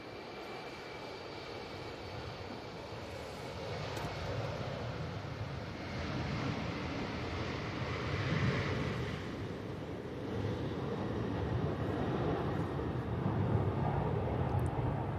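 An arriving airliner at Manchester Airport during Storm Ashley, a broad jet roar that swells gradually over about fifteen seconds, heavily mixed with gusting wind buffeting the microphone, no voices.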